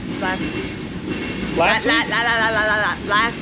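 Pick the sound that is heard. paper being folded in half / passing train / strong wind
passing train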